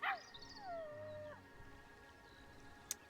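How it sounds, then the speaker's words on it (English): Timber wolves howling in a zoo habitat in the Tennessee hills, a faint, wavering howl sliding downward, then fading into quiet with a sharp click near the end. "those timber wolves, they just keep howling and barking"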